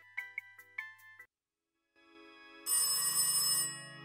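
A telephone in the video game The Darkside Detective rings in short electronic bursts, then after a pause a louder, brighter ringing tone swells in and fades, with a melodic game-like quality.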